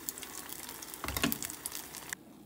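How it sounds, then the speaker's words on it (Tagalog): Fish and squid frying in a home pan give a faint, crackling sizzle with a brief louder burst of spattering midway, heard alone without voices. "ito na yung prito natin"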